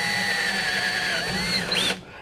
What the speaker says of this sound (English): I want to drill this 1/8 hole right through the wall of the seal